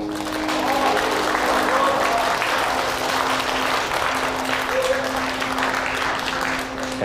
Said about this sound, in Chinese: 我们一起掌声见证这一时刻